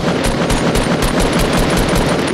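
Rapid automatic gunfire in the video game Fortnite, a loud, close burst of evenly spaced shots firing continuously at roughly eight per second, with no talk over it.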